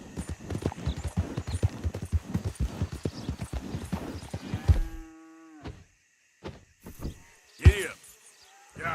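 Horse hooves clip-clopping at a quick, even gait in Red Dead Redemption 2, close and prominent for about five seconds, then stopping. Sparse sounds follow, with a brief tonal note and a short louder knock near the end.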